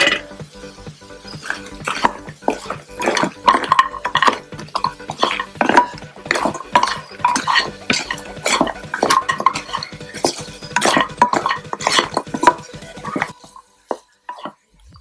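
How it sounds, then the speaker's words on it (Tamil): Fried idli pieces are stirred into a ketchup, onion and capsicum gravy in a pan, giving a steady run of close metal spoon scrapes and clinks against the pan for most of the stretch before it falls quiet. No one speaks. "இந்த டைமில் நம்ம ஃப்ரை பண்ணி வச்சுருக்க இட்லி இது கூட ஆட் பண்ணி மிக்ஸ் பண்ணிடலாம்."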